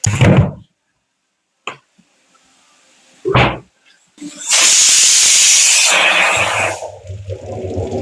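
Pressure cooker whistling as it vents steam while pork cooks, a loud sustained hiss of about three seconds following a few short bursts of release, fading to a lower rumble at the end.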